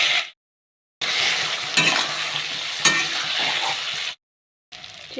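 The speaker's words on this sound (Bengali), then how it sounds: "লবণগুলো দিয়ে চিংড়িগুলোকে ভেজে নেব।" Shrimp tossed with salt sizzle steadily in hot oil in a pan, a loud, close frying hiss running in two long stretches with brief silent breaks between them.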